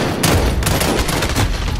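Rapid bursts of FR 5.56 rifle fire in Call of Duty Modern Warfare, loud, close and sharp, repeating in quick succession with heavy low-end thump.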